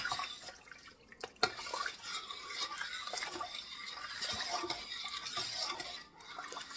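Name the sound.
liquid being poured into a soup pot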